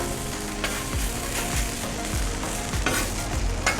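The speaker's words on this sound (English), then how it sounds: "So when we flip it, it gets nice and crispy on the other side too." Hash browns fry on a Blackstone griddle with a steady loud sizzle, broken by several scraping spatula strokes as they are stirred and turned, close up with no talk.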